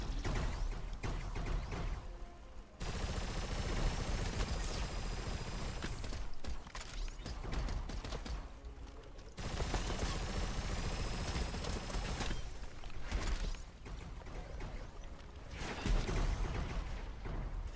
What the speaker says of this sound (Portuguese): Ouço tiros. Ouço tiros.